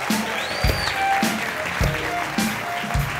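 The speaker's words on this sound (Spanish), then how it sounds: "¡Fuerte el aplauso al paisita!" A live show audience applauds loudly and continuously while low, rhythmic thumps pulse underneath at a regular beat, with a sliding electronic tone rising briefly overhead.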